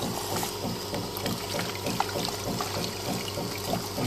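Carbonated product flowing from a pumped keg filler on a Carbo 200 carbonation unit, a steady pouring, trickling liquid rush with a low mechanical hum underneath, continuous and fairly close throughout.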